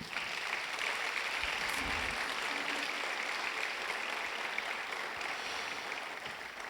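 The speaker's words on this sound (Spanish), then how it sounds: "Démosle un aplauso a Dios." A church congregation at a Sunday service applauds, a dense, continuous wash of many hands clapping throughout, moderately loud with a few brief low thumps mixed in.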